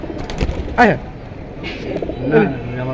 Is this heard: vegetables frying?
no